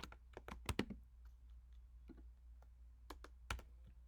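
Computer keyboard keys tapped while entering Python code, a few scattered clicks and short bursts of typing with pauses between them, close and fairly quiet against a low hum.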